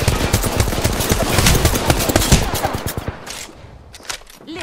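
A dense, loud volley of rapid gunfire in a shooter video game, sustained machine-gun bursts that thin out toward the end, with a voice speaking faintly underneath.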